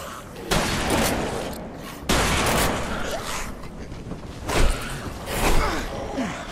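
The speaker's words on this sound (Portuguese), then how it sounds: "Tá, agora eu vou ter que atirar." Gunshots in the video game Deadlight Director's Cut, loud broadband blasts coming in several bursts about a second or two apart, with noisy rumble and debris between them.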